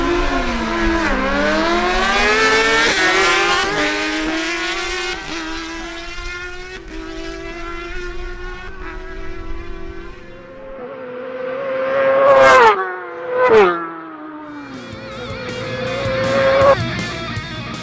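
Suzuki GSX-R1000 motorcycle on a drag strip run, a loud high-revving engine wail climbing through several gear shifts, then sharp rising bursts and a fading, receding roar near the end.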